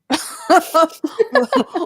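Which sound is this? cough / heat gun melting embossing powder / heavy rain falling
cough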